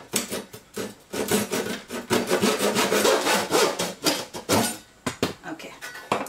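A hand saw cuts through wood from an old chair during a basement staircase project, rasping in steady back-and-forth strokes, close and loud, with a few short pauses.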